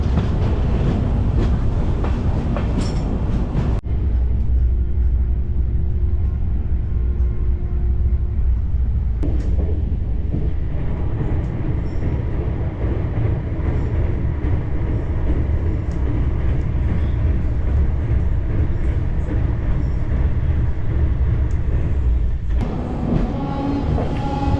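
The NJP-Guwahati Express pulls out of Bijni on its inaugural run, a steady loud rumble of wheels on rails with rolling rhythmic clatter that holds for the whole stretch.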